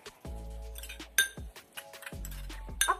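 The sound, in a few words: stirring a tea-grounds face mask in a bowl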